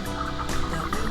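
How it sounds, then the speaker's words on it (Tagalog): Birds calling on an island in El Nido, Palawan, a dense chatter of overlapping chirps and clucking calls at moderate level, continuous through the short stretch with no talking. "Ingay ng mga ibon yan."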